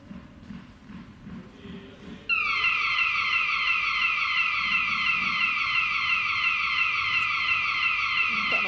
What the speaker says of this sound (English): There is the fire alarm.